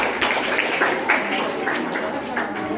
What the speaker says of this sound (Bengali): সবাই মিলে হাততালি দিই।